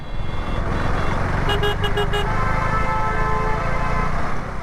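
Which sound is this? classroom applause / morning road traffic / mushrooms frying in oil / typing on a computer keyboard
morning road traffic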